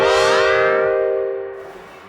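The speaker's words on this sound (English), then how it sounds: "Reverb, and let's listen to the reverb." Modal Cobalt 8M virtual analog synthesizer playing a sustained chord through reverb, bright and loud at first, then decaying smoothly into a fading reverb tail, alone without talk.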